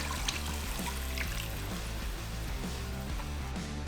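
Beef stock poured into a Dutch oven, a steady liquid pour and trickle heard up close and alone, continuous for the whole stretch.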